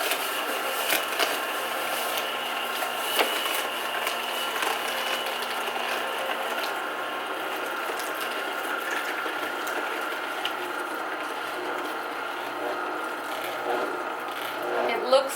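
A Kuvings B6000S slow juicer runs steadily as it crushes apple, giving a continuous mechanical whir with faint grinding and occasional small clicks, close and even throughout.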